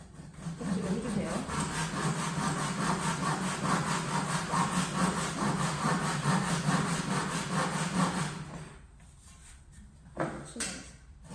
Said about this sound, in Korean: 톱질을 해주세요